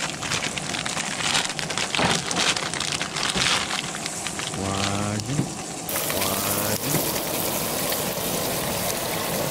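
Lake trout sizzling in a pan as it cooks, a continuous close hiss and crackle of frying, with brief voices speaking partway through.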